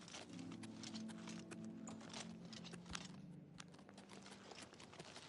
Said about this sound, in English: Got a horse now.